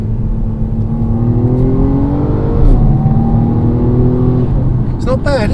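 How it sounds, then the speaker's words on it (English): BMW M135i in sport mode revving hard, its exhaust rising in pitch through the gears with a brief upshift crackle near the end, loud and close over steady road noise. "it's got a little sort of upshift crackle there as well"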